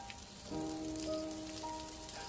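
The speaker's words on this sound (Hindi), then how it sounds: "एकदम से बारिश भी शुरू हो जाती है।" Rain begins falling in cold weather, a soft steady patter across the whole stretch, faint and even, with no voices.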